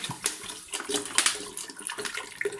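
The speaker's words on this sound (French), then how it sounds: "Donc là on va mettre le restant d'eau." Water is poured into a pot of chorba soup, a short splashing stream that rises and falls over a few seconds, close and moderately loud with no talk.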